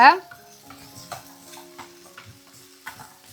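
Spices dry roasting in a pan for pepper chicken, a soft sizzle with a scrape of stirring at the start, then gentle ticks and light clinks against the pan at intervals.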